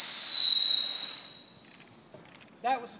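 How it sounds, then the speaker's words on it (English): Small model rocket motor firing at a demonstration launch, a loud hissing whistle that fades away over about a second and a half, followed by near silence and a brief faint voice. "That was a 2-second rocket."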